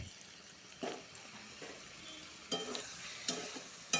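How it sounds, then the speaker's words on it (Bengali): Mushrooms, potato and pointed gourd fry in a pan with tomato, ginger, chilli, cumin and coriander pastes, giving a soft steady sizzle broken by several sharp stirring scrapes. "আদা টমেটো লঙ্কা জিরা ধন্যা এটার সাথে ভালো করে আবার ভাজবো"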